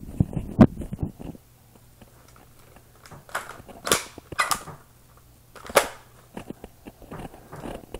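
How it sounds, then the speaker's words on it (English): An unloaded, heavy gun is cocked, giving a few sharp, loud metallic clacks close by with quiet gaps between them. "Yeah, let me cock it once."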